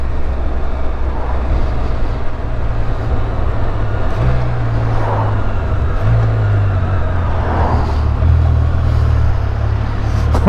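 A 2022 Can-Am Spyder F3L three-wheeled motorcycle engine runs steadily up close, with low rumbling pitch shifts around the midpoint as the automatic transmission downshifts, a quick sharp change like an air shifter.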